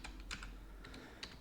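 A few sharp clicks of keys pressed on a computer keyboard, with short separate taps spread over a moment in a quiet room and no voice.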